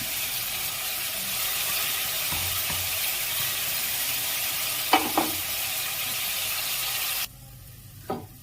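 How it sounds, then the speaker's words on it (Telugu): Onions and capsicum sizzle steadily in a pan, frying without oil for a capsicum paneer curry, with a couple of louder scraping stirs partway through; the hiss drops away near the end, leaving a final stir in quieter air. "సో నేను ఆనియన్స్ అండ్ క్యాప్సికమ్ ఒకటేసారి వేసుకున్నాను. సో ఒకసారి దీన్ని కలిపేసుకోండి."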